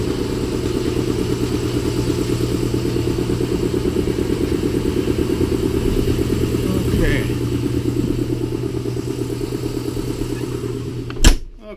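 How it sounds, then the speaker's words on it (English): A portable air compressor runs steadily beside a 2015 Livin' Lite Camp Lite 6.5 truck camper, a continuous mechanical drone with a rattling motor pulse, loud and close, ending with a sharp bang near the finish. "sorry about that compressor noise"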